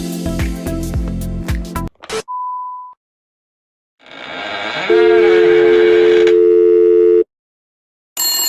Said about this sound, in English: Sorry, the number you have dialed is not in service at this time.